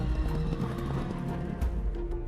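A horse gallops, its hooves pounding in a fast, continuous, loud rhythm close by, with no break over the short stretch.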